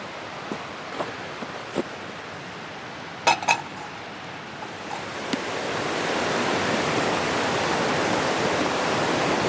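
A waterfall flows in a steady broadband rush that swells louder in the second half, with a few faint clicks and knocks earlier and no talking.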